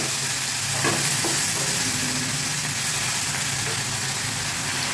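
Ginger paste with onion and garlic paste sautés in a pan, giving a loud, continuous close-up sizzle with a faint low hum beneath and a couple of brief stirring clinks.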